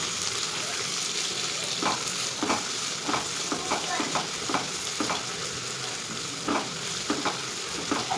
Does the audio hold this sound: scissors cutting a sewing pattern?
no